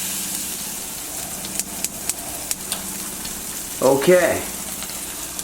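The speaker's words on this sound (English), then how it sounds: "We're just going to add in our cheese cubes, and we just want to brown them a little bit." Cheese cubes fry in olive oil in a frying pan, a soft steady sizzle with light clicks and stirring scrapes, and a brief voice says a word near the end.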